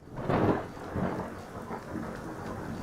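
Rain and thunder in the video game Skyrim: a steady wash of falling rain with low rolling rumbles swelling near the start, heard on its own at moderate level.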